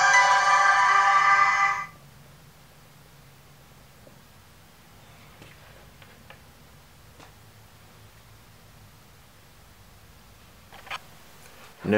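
A T-Mobile Samsung Galaxy S3 plays a short, bright electronic startup chime while restarting, lasting about two seconds before near silence with faint handling clicks.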